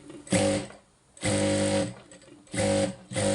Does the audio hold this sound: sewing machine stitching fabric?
yes